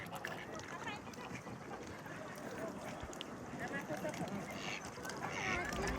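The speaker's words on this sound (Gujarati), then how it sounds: "ડકને ખાવાનું આપીએ છે." Ducks and white geese are fed at a duck park, giving a busy jumble of quacks, honks and water splashes, with people talking over it.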